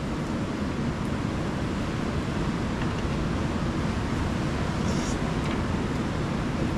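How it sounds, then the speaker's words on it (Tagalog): Strong wind blowing outdoors at a dinner beside a camper van in Casiguran, Aurora Province: a steady, loud broadband roar of gusts buffeting the microphone, with no breaks, and faint voices buried beneath. "Kasabay ng aming masarap na hapunan ang malakas na hangin."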